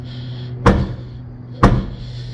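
Lid of a 2025 Volkswagen Virtus Highline 200TSI shut twice with a firm push, each a sharp close thump about a second apart over a low steady hum.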